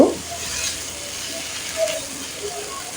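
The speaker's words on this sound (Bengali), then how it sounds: "এখন আমি একটু ভালো করে নেড়েচেড়ে মিশিয়ে নেব" Greens are stirred into browned fried onion in a pan, making a soft continuous sizzle with a few light scraping and clicking stirs of the utensil.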